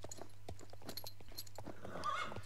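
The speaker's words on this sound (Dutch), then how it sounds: "Waarom loopt dat paard zo anders?" A horse walks with steady, faint clip-clopping hooves over a constant low hum, the steps fairly far off with no talk.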